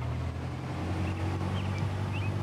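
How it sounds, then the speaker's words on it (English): A simulated aircraft piston engine in the Prepar3D flight simulator, running slightly rough on a lean mixture, gives a steady low droning hum that holds close and constant throughout. "just enough to keep the engine running smoothly."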